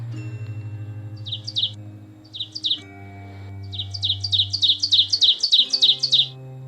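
Several bursts of sparrow chirping over a low steady hum: a few short chirp groups early, then a rapid run of repeated tweets near the end, fairly close and clear.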